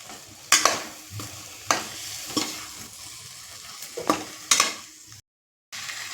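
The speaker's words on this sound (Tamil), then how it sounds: "இப்போ மஞ்சத்தூள் போட்டு நம்ம க்ளீன் பண்ணி வச்சுக்கிற சிக்கனையும் போட்டு சேர்த்துக்கலாம்" Chicken with turmeric, shallots and ginger-garlic paste frying in a pan, a soft continuous sizzle broken by several sharp scrapes and stirs, close and fairly quiet, with a brief silence near the end.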